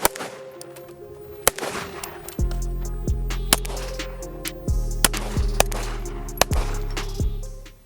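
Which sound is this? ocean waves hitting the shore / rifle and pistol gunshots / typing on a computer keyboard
rifle and pistol gunshots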